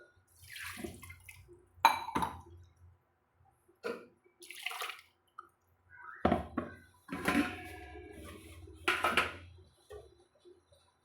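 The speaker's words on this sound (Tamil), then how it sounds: "ஜாரக்கழுவி கழுவி தண்ணியை சேர்த்துக்கிட்டேங்கப்பா" Water sloshes and pours as a blender jar is rinsed while making coconut and raw rice payasam, in several short, separate splashing bursts with quiet gaps between them.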